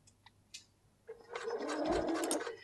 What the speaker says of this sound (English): I can then lower my presser foot so my foot is now lovely and level, and then start stitching